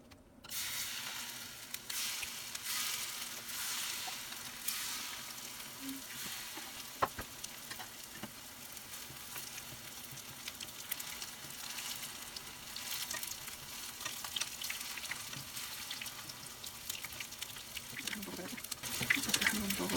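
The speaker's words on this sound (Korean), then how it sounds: "그리고 가루를 묻힌 멸치를 깻잎에 넣고 또르륵 김밥 말듯이 말한 다음에 반죽물을 묻혀서 튀길 거예요" Battered fresh anchovies rolled in perilla leaves deep-frying in hot oil, a continuous close crackling sizzle with stirring clinks, steady throughout and without talk.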